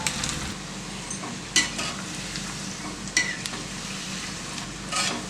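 Egg kofta balls frying in slowly heated oil, giving a steady close sizzle and bubbling with a few sharper spatter bursts, alone with no talk.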